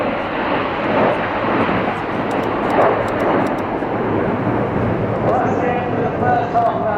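Red Arrows jets flying in close formation at an airshow, about 2,500 feet up at 400 mph, give a steady distant broadband roar that holds throughout, with a commentator's voice heard over the public address.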